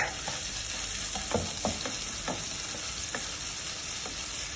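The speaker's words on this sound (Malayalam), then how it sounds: "ഇച്ചിരി എണ്ണ ഇട്ടിട്ട് ഇനി ആദ്യം ഇടണത് ഈ എണ്ണയിൽ ഗ്രീൻ ചില്ലി ഒന്ന് വഴറ്റണം" Green chillies sautéing in a little oil in a Chinese-style wok: soft continuous sizzle with a few scattered stirring scrapes, fairly quiet and close, no talking.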